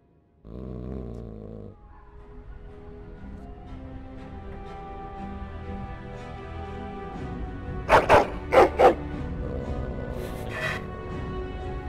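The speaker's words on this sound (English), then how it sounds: "Angrily barking and growling." Angry dog barks and growls in the fantasy game Dragon Age: Origins, starting as a low rumbling snarl, then a burst of three loud close barks followed by another bark over a steady game background.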